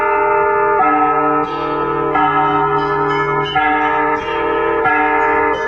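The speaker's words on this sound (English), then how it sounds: "when you struck the metal, it sounded exactly like a church bell" Sustained metallic ringing with rich, steady overtones, like a large bell humming loudly, with slight swells every second or so and no voices.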